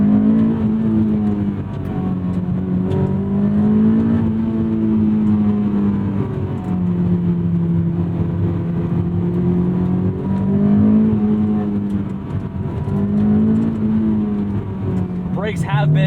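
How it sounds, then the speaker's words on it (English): Mazda Miata NC2 engine running loud and close from inside the car, its tone rising and falling through gear changes with throttle blips for rev matching, and a voice speaking over it. "I have to remind myself to blip it a little bit harder to get those rev matches just right."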